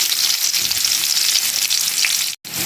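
Crushed garlic and finely chopped onion fry in hot oil, giving a loud, continuous close-up sizzle with faint stirring and one brief dropout near the end.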